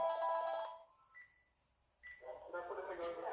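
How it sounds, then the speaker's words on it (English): Telephone ringtone trilling in bursts during a live stream, a patterned electronic ring that pauses and returns, with a voice speaking over it. "Somebody's ringing the phone, but they've called the wrong number for the wrong department."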